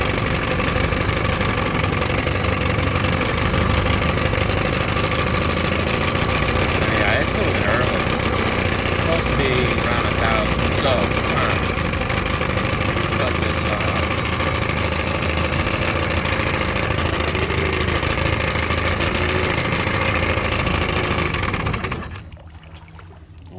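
A 1957 Mercury Mark 10 outboard engine idles during carburetor-to-ignition syncing, a loud, steady, close mechanical drone with a knocking pulse that runs for about twenty-two seconds before cutting out abruptly.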